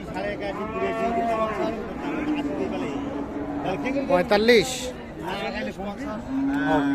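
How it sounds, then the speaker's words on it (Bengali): A cow with a calf moos at a busy cattle market, the low calls partly buried under close bargaining talk and background chatter. "এটা কি সব থেকে ছোট গাভি আজকের"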